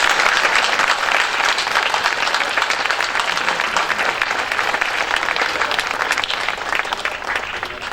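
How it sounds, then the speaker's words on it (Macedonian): A large audience at a formal nursing week ceremony of medical sisters and midwives bursts into loud, sustained applause, a dense, steady roar of many clapping hands with no break. "За нас еден огромен аплауз свему за сите."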